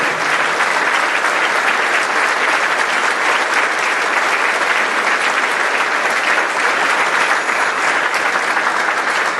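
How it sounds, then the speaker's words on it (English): A large concert crowd at a junior high mass band performance claps steadily for the four band directors, a loud, dense and unbroken round of applause lasting the whole stretch. "I'd like to give a little round of applause for the 4 directors of these bands"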